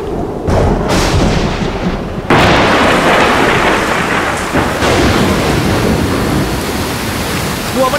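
A storm scene in a Telugu film: heavy rain roars steadily while thunder cracks and booms loudly, with a big crash a couple of seconds in and rumbling after.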